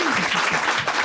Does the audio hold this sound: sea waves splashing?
no